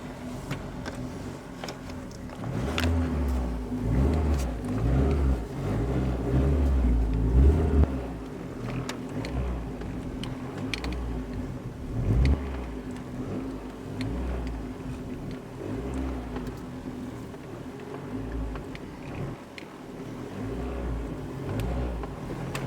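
A Mercedes W124 running on LPG with loose steering is driven, its engine a low rumbling drone with a couple of swells of revving, heard from inside the car and steady throughout.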